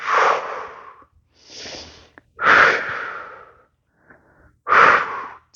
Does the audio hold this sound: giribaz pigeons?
no